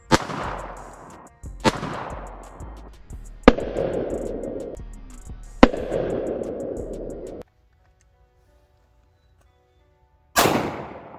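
Several loud gunshots fired at targets during a shooting session with new and old guns, sharp reports spaced a second or two apart, each followed by a long echoing decay, then a pause of quiet before one more shot.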